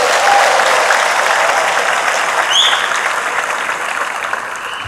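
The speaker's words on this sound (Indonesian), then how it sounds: "Tepuk tangan dulu buat semua nih, tepuk tangan." A large crowd claps steadily through an official ceremony for newly appointed provincial civil servants at Oepoi Stadium in Kupang, loud and sustained, easing slightly toward the end with no talk over it.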